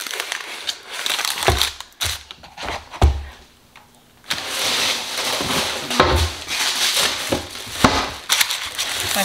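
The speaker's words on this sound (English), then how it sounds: "This parchment's a little big. So I like to put it on the parchment and then put it in" Parchment paper crinkling and rustling while sourdough dough is handled and placed into a sling, irregular crisp crackles close by with bursts and pauses, along with a few soft thuds.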